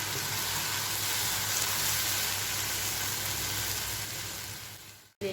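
Steady, loud sizzling of spices frying in a pan for chicken spaghetti, a continuous hiss that fades slightly before a sudden cut at the end.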